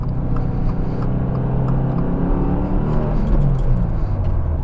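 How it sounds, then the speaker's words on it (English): Steady engine drone fills the cabin of a 2024 Subaru WRX base model out on the road, a continuous low rumble with a slight swell toward the end, heard alone without talk. "Oh my gosh, this car's amazing. And it sounds great"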